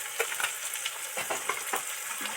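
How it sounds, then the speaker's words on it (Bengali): Chopped onions dropped into hot oil frying in a pan, a faint, steady hiss with small scattered crackles and no talking. "এবার ওই তেলে পেঁয়াজ দিয়ে দিচ্ছি পেঁয়াজ কুচো পেঁয়াজ দিয়ে দিচ্ছি"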